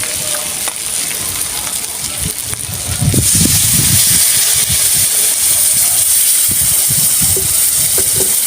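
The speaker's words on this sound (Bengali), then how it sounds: "এবার জল দেব।" Water is poured into a hot pan of hilsa fish head curry being cooked, and a loud, steady sizzling hiss swells up and holds, with scraping and clinking underneath.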